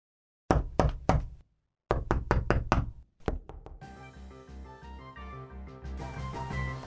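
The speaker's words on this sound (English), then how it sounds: "Meanwhile, Murphy and Cherry knock on the door." Knocking on a door in two quick clusters of sharp, close raps with a pause between, followed by music starting up.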